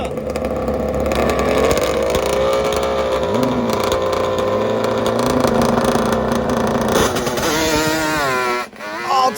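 Drag-racing motorcycles, a two-stroke Kawasaki H1 against a Suzuki Hayabusa, roar loud and close for several seconds, engine pitch climbing through gear changes before a final rising rev as the bikes pull away.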